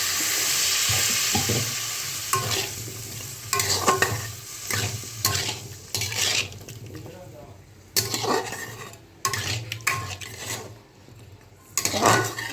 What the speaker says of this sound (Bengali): এবারে আমি অল্প করে একটু জল দিয়ে দেবো।